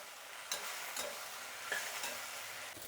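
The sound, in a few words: okra frying in a pan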